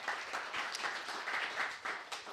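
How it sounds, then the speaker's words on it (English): At a sales meeting, an audience applauds for Vanina with a brief burst of scattered clapping from many hands that sounds fairly faint and distant and lasts a couple of seconds. "So give a round of applause to Vanina for being here."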